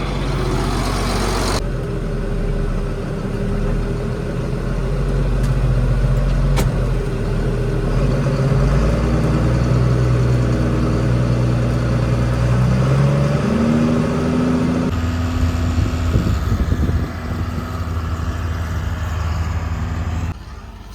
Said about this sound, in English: tractor's a little loud